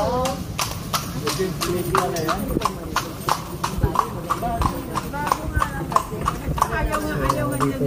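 Steady clip-clop of horse hooves pulling a kalesa carriage through the historic streets of Intramuros, a brisk even rhythm close by, with people talking over it throughout.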